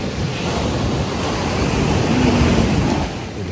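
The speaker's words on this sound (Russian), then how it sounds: "Волны сумасшедшие." Ocean surf roars continuously, big waves washing on a Dominican Republic beach in Samaná, with wind rushing across the microphone.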